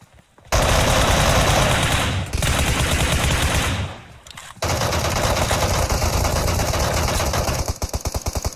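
Video game gunfire in a team shooter, with long, loud, close bursts of rapid automatic fire separated by brief pauses, ending in a fast rattling stream of shots, with no talk over it.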